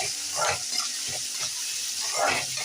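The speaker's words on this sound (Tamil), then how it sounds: "நல்லா இது வதங்கட்டும்." Onions and tomatoes sauté in a pan for mutton kulambu, a close sizzling hiss broken by soft scraping stirs in an uneven rhythm, no talking.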